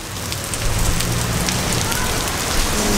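Steady rain falling on hard surfaces in Playa del Carmen, a dense close patter with scattered louder drops, continuous throughout.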